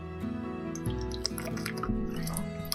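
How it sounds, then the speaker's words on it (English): Water trickles and drips close to the microphone indoors, a few wet splashes and gurgles over a low, steady hum, moderately loud and without talk. "I don't know if you could hear the water."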